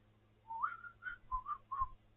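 Human whistling in a short melodic phrase of several rising and falling notes, clear and close, with no talk.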